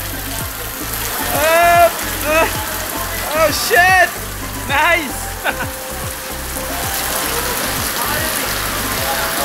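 A steady hiss of water pouring and splashing over Sandugo Triton shoes continues throughout, while voices break in with a few excited exclamations.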